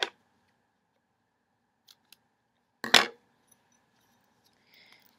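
Scissors trim a crochet yarn tail with a couple of crisp, close snips, the sharpest cut in the middle, separated by near silence and faint handling noise.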